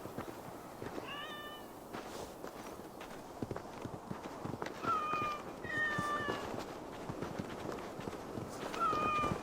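Several cats meowing in Assassin's Creed Valhalla, with a few separate rising meows close by, over a steady clip-clop of hooves and low ambient noise.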